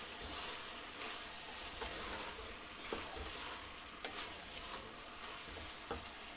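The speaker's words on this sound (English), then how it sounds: "I'm going to stir. As I stir, you can see the tomatoes they're like disappearing into the sauce." Cooked tomatoes being stirred into a simmering sauce in a pan, a steady soft sizzle broken by repeated spoon scrapes and clicks at a slow, even pace, close and moderately quiet with no talking.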